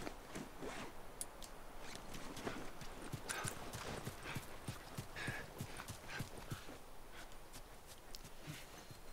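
Horse hooves clip-clop in the video game The Last of Us, a quiet, fairly quick train of light hoof knocks mixed with faint tack rustling throughout, with no speech.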